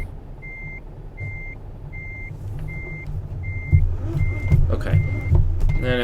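Simulated truck in Euro Truck Simulator 2 reversing, its backup alarm beeping in an even, regular series over a low rumbling engine that grows louder and busier toward the end.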